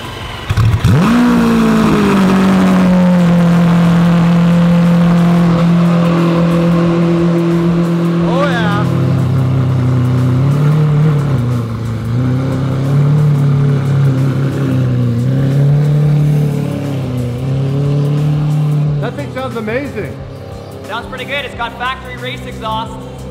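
A V12 Lamborghini fitted with an aftermarket exhaust starts up loud and close, then holds a deep rumbling idle with swelling revs and throttle blips as it pulls away, with people talking over it.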